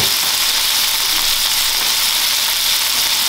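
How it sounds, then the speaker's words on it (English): Vegetables for rasta pasta fry steadily in a pan, giving a loud, even, continuous sizzle with no breaks and no voices. "So you cook your vegetables a little bit, and you just let those cook for like five minutes."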